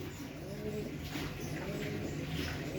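Pigeons kept for sale at a Sunday pigeon market coo softly and continuously, a low steady burble with faint chirps over a constant background hum.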